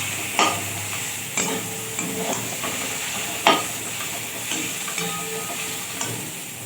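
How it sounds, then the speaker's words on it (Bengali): Taro (kachu) frying in a pan under a constant sizzle, with utensil scrapes and clacks at irregular intervals as it is stirred, loud and close. "কচুটাটা বেশ কিছুক্ষণ ধরে এবার নেড়ে নেড়ে ভেজে ভেজে নিতে হবে।"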